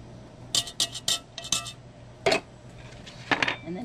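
Peach cobbler mix spread with a metal utensil over fruit in a cast-iron Dutch oven: several quick scraping clinks in a short burst, then two more isolated scrapes, close and moderately loud with a faint steady hum beneath.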